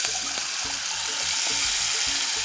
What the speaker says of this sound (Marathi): ठेचलेल्या लसणीच्या पाकळ्या आणि याला परतून घ्यायचं